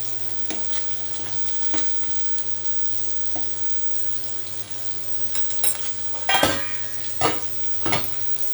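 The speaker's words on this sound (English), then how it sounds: "Make sure to stir the pasta so it doesn't stick" Pasta is stirred in a pot on the stove, a steady bubbling hiss beneath a low hum, with a few scraping clatters from the spoon against the pot growing louder toward the end, no one speaking.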